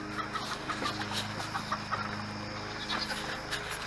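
Backyard chickens cluck and murmur continuously at moderate distance on a summer evening, with a steady low hum beneath them, likely a neighbor's lawn mower, and scattered higher bird calls.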